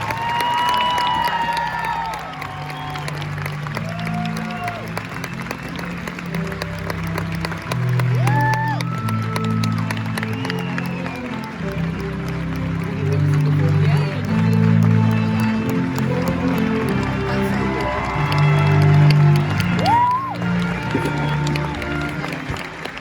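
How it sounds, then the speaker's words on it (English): Audience applause and cheering at a US Army basic training graduation on a parade field, a sustained crowd roar with clapping and shouts running throughout alongside background sounds. "please join us in a round of applause for the United States Army Infantry Rifle Squad"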